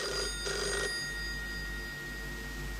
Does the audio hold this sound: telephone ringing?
yes